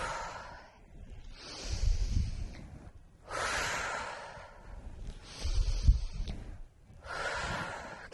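Slow, heavy breathing during a prenatal cardio yoga flow, several long breaths with a gap between each, close and fairly soft.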